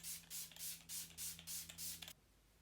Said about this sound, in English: Let's spray this down with some of their primer water